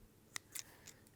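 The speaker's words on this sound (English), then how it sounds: "just grab a pair of scissors and just gently trim so you don't go over that lovely pleat" Scissors snip through excess lattice pastry on a mushroom Wellington, giving a few quick, crisp cuts, soft and close in a quiet kitchen.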